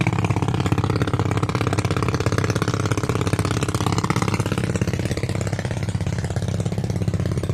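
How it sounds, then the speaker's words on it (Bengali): A trawler boat engine chugs nearby with a steady, rapid mechanical pulse, holding a constant level throughout with no voices. "ট্রলার যেতেছে, ট্রলারের শব্দ।"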